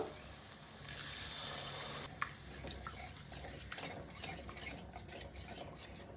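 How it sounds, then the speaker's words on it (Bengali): Water poured into cooking masala in a pan while making Bengali tel koi: a loud rushing pour for about two seconds, then bubbling and clinks of stirring utensils. "এর মধ্যে এবার জল দেব"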